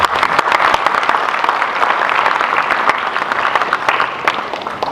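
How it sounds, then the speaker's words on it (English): An audience applauds steadily and loudly at a family gathering, dense clapping filling the whole stretch without pause. "Let's give them all a round of applause."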